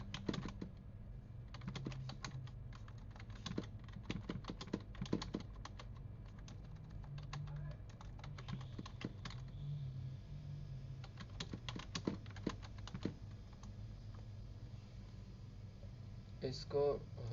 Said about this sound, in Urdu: جیسے کہ ہم ادھر کچھ ٹائپ کرتے ہیں